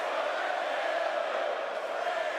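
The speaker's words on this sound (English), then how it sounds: "And the crowd definitely behind Bray Wyatt here tonight." An arena wrestling crowd roars in support of Bray Wyatt ahead of his bout with Karrion Kross, a dense continuous wash of cheering voices at constant loudness with no breaks.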